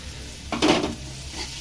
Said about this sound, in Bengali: এর মধ্যে এবার টমেটোগুলো দিয়ে দেবো।